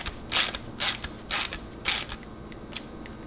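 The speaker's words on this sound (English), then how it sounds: "now we're going to go ahead and replace that T20 screw" A T20 screw driven back into the back-up camera bracket on a Ford Edge, four loud ratcheting bursts of a driver in a steady rhythm, then fainter clicks, close up with no talk.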